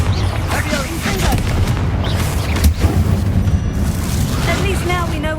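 Confringo spell blasts in Hogwarts Legacy, deep booming explosions rumbling under game music and voices, repeated rapidly and loud throughout.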